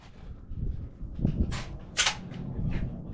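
Handgun shots at an indoor gun range: a few sharp, hard reports spaced about half a second apart, fairly close, over a murky, noisy room background with some muffled voices.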